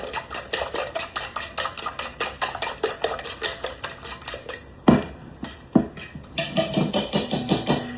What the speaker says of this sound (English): I'm gonna just get me a fork and just kind of beat them together